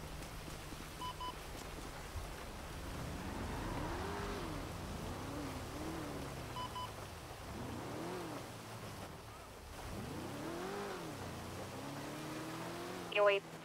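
A vehicle in GTA roleplay drives along with a rising and falling engine tone that shifts through several gear-like sweeps, steady and fairly close, with a short sharp noise at the very end.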